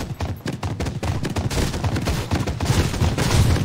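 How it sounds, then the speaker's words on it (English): Fireworks set off in the video game Fortnite, a dense run of rapid crackling bursts and pops firing continuously and loudly throughout, with no talk over them. "Anybody partial to the fireworks, or can I just set these off?"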